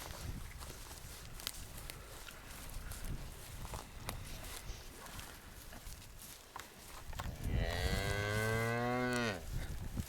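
Angus breeding cattle in a farm pen, with shuffling hooves and soft movement at first, then one long, loud, close moo rising and falling for about two seconds near the end.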